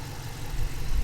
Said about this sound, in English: I can hear the fuel injectors tapping away, as they should do, nice and healthy